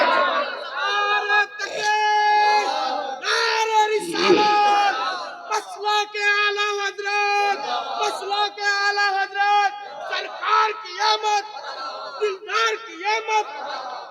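A large gathering at a Milad-un-Nabi religious gathering shouts a call-and-response slogan, loud massed voices rising in repeated bursts, with a leading voice calling between the crowd's answers.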